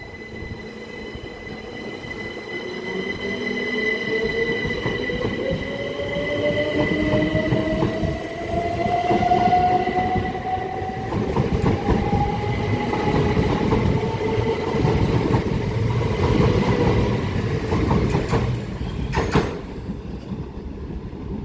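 An empty coaching stock train runs through Swanley station, a long steady rumble of wheels and motors with a gliding whine and brief squeals, passing close by and dropping off near the end.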